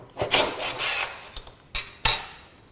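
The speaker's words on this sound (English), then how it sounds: "Next, we can scrape it off." A 3D print is scraped off the removed magnetic print bed of a Prusa FDM printer: several short rasping scrapes in a row, close and distinct, with brief gaps between strokes and no speech.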